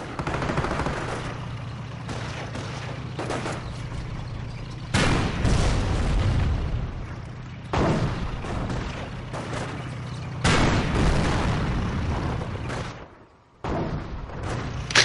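Anti-tank gun fire and explosions in the Company of Heroes strategy game: repeated loud booms and bursts of gunfire in uneven clusters over a dense battle din, with no talk.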